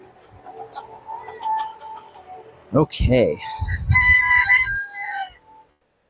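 Chickens cluck and a rooster crows at an outdoor chicken yard, with scattered bird calls building into a loud crow midway and a person speaking briefly nearby.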